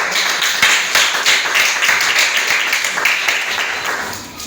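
A church congregation applauds during a Sunday service, dense continuous clapping from many hands that stays loud and fairly even, with a few sharper claps standing out.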